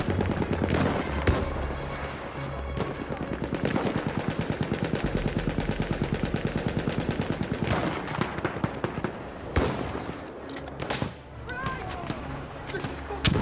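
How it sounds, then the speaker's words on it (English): Enemy artillery barrage in Battlefield 1, heard as a loud, rapid train of repeated shots and blasts with several heavy booms, mixed with shouting voices over the fire. "Wait for the enemy artillery barrage to stop firing."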